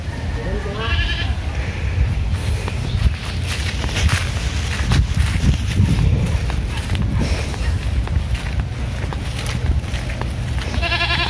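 Goats bleat near a riverbank in several short calls, mixed with footsteps and rustling outdoors, fairly close and moderately loud.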